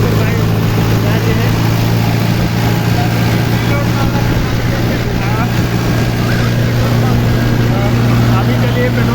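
A Mahindra tractor's engine runs steadily and loudly with a deep droning hum while its hydraulic trolley tips out a load of gravel, and the engine noise fills the whole stretch.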